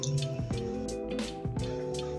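Fried phulkiyan drop into tamarind water, giving several soft, close drips and wet squishes at an irregular pace against a quiet background.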